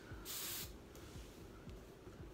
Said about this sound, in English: The final step is obviously hairspray. Once you have it how you like, just go ahead and mist.